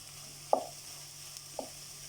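Samosa potato filling fries gently in a pan, a steady soft sizzle with two brief clinks of a utensil against the pan.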